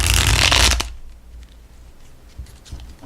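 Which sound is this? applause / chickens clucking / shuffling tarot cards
shuffling tarot cards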